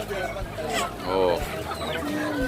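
Chickens at a rooster market in Ketanggungan, Brebes, Central Java cluck and squawk close by in a busy, continuous stream, with people talking over and around them.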